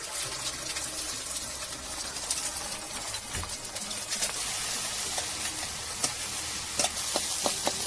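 An egg frying in hot oil in a pan, a soft steady sizzle with occasional stirring clicks and faint birdsong in the background.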